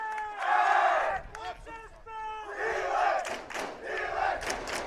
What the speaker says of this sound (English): Got a boisterous crowd for sure.